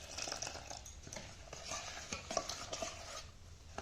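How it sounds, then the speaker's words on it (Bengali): A whisk or spoon beats semolina batter with milk in a bowl, steady scraping and clinking strokes, close and fairly soft, with no voices. "দুধ দিয়ে ভালো করে ফেটিয়ে নেবো।"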